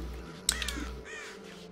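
A bird in the video game Child of Light gives a few short, harsh caws close by. The calls come in a quick cluster, then taper off against a quiet background.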